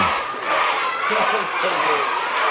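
A wrestling arena crowd roars and chants in a steady, loud wash of cheering during a championship bout, with a commentator talking over it.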